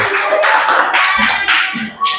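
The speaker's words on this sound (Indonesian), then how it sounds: "Tepuk tangan dulu untuk kelompok 4." A classroom of students claps for a group during a teaching session, loud and close, the hands landing in a rhythmic pattern of repeated bursts about twice a second.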